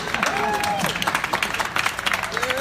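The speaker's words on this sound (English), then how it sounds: "cue the applause" A crowd at the NAB 2017 broadcasting trade show applauds on cue, a steady wash of clapping with voices talking over it throughout.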